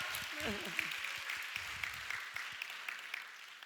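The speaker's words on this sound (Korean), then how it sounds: "예, 박수 쳐주세요." A congregation claps during a Friday late-night prayer meeting in a Korean church, a fairly sparse, uneven patter of hands that follows a brief spoken voice at the start.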